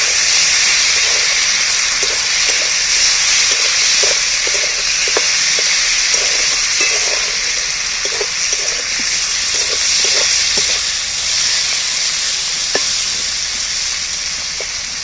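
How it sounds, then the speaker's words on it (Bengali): Goat fat and onions sauté in hot oil, giving a loud, steady sizzle and hiss with scattered soft stirring clicks throughout, close up with no talking. "চর্বিটা আমি তেলের মধ্যে তুলে দিই পেঁয়াজের উপরে। এইবার আমি ভালো করে কষিয়ে নেব।"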